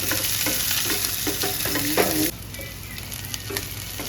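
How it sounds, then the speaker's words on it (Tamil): Onions and fennel seeds fry in ghee in a pan for a mint goat intestine curry, sizzling steadily while being stirred, with scraping stir strokes; the sizzle drops off sharply partway through. "ஒரு ஸ்பூன் நெய் போட்டு சோம்பு பெருஞ்சீரகம்னு சொல்கிறோம் பார்த்தீங்களா அதை சும்மா லைட்டாக போட்டு ஒரு நாலு வெங்காயத்தை கட் பண்ணி போட்டு ஒரு ரெண்டு திருப்பு திருப்பிடலாங்க"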